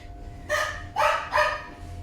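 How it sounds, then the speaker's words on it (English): A dog barks three times in quick succession, close and fairly loud, with short pauses between the barks over a quiet indoor background. "can you please get that dog to be quiet?"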